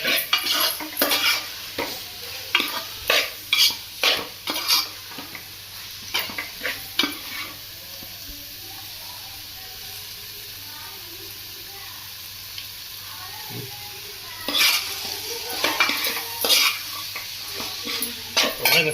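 Broad beans being stir-fried in a pan, with repeated loud spatula scrapes and knocks against the metal over a soft sizzle, a quieter stretch in the middle, then more stirring.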